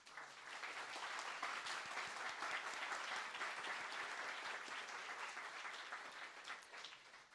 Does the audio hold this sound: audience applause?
yes